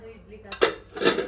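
Pots and pans clattering in a home kitchen, two sharp metallic clangs close together, loud and near, after a brief bit of background voice.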